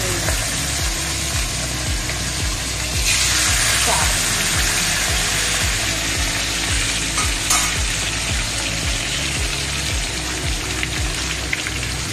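Fish sizzling hard in very hot oil in a home kitchen, a loud, steady crackling fry with rapid spitting pops that runs throughout.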